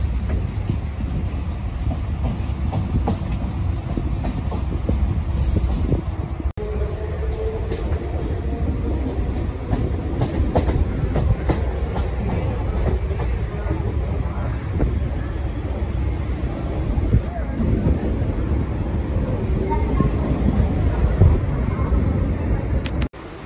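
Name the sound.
Chennai EMU local train running on tracks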